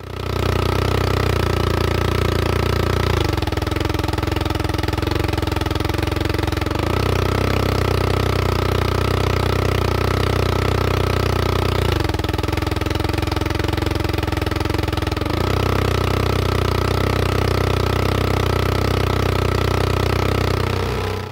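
A loud, harsh synthetic engine drone from an engine simulator with a choked intake, buzzing steadily for the whole stretch, its tone dropping and recovering in a few abrupt shifts.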